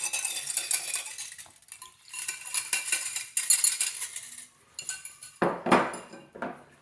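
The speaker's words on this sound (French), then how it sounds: "on mélange à la cuillère en bois pour commencer" Flour, yeast mixture and egg for homemade burger buns being stirred with a wooden spoon in a bowl, heard as close bursts of scraping and knocking strokes separated by brief pauses, with no talking.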